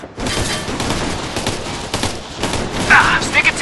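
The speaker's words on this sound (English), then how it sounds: "Sounds like hostile fire." Hostile gunfire in the combat game Operation Flashpoint: Red River: a dense, continuous fusillade of rifle and machine-gun shots crackling throughout, with sharper nearby bursts near the end.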